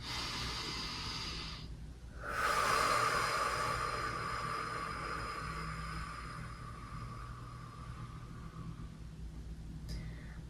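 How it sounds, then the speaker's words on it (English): One long, slow, deep breath during a chair yoga session: a steady airy inhale-exhale hiss lasting several seconds, close and soft over a low background hum, with no talking. "We'll take one more breath here."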